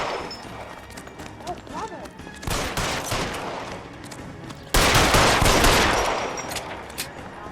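Gunfire in the 1940s Los Angeles detective game L.A. Noire: rapid bursts of shots, with a loud, dense volley starting midway and continuing to the end amid busy game noise.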